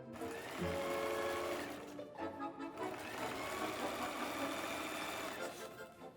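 Sewing machine stitching fabric for a bicycle bag lining, a steady continuous mechanical whir with a brief pause partway, running alone at moderate level.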